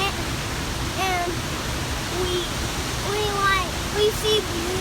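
Steady broadband rush of a waterfall heard up close, constant and full, with a person talking over it throughout.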